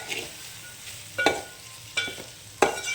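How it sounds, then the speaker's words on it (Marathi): Okra with a spice mix sizzles gently in a pan while a spatula scrapes and stirs it in three or four distinct strokes, close by, with no talk. "आता आपण याच्यामध्ये मसाला टाकून घेतला आहे, आपण छान परतून घेऊया।"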